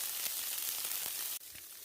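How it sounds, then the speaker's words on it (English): Ice pellets patter steadily on a tent on a mountain trail at dawn, a dense, faint hiss of tiny hits with an abrupt slight change near the end. "That's ice hitting the tent."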